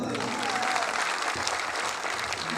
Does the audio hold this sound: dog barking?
no